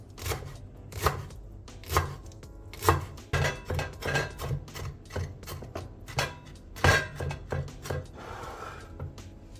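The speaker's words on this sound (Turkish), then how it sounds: "Maydanozu ince ince kıyıp ekliyoruz." Parsley is finely chopped with a knife on a board for an aubergine beyti dish, producing a rapid irregular run of sharp close knocks and thuds that speed up toward the end.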